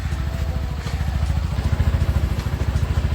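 Motorcycle engine idling while warming up after a cold start, a close, steady low thumping putter with a slightly uneven pulse, no talk.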